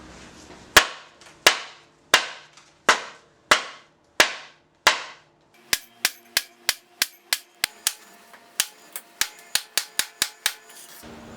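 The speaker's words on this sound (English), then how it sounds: "Alright, I'm just gonna keep whacking it." Hard, sharp whacks strike a stuck part on a 1977 Honda CT90 Trail motorcycle, loud and close, first slow and evenly spaced, then a faster run of blows with short ringing decays.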